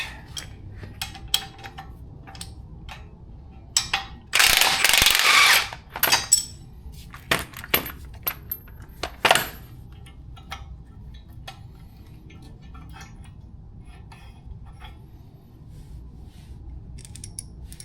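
Ratchet work on a 3/4 inch spindle bolt of an EZGO golf cart with a 6-inch lift kit, mostly faint scattered clicks and clanks over a steady background, with one loud harsh burst of about a second partway through.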